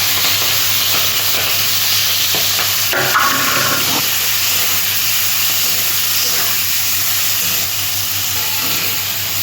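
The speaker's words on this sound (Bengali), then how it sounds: "চিংড়ি মাছটা ভেজে নেব।" Shrimp frying in hot oil in a home kitchen, a steady broad sizzle and hiss that holds throughout, with a brief clatter of stirring near the middle and no talking.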